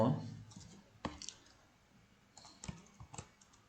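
Keys click on a computer keyboard as code is typed into MATLAB, in short sparse bursts of soft taps with pauses, quiet and close, with a voice briefly at the start.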